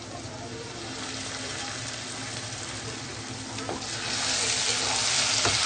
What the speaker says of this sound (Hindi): बीच बीच में से हम इसको चम्मच से हिलाते रहेंगे। आंच हम बिल्कुल लो टू मीडियम रखेंगे।